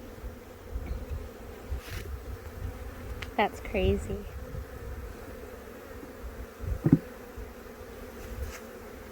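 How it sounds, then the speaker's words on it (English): Honey bees buzz as a steady low drone around an outdoor nuc transfer, while people talk briefly over the hum. "So as you can see, the bees are going about their business."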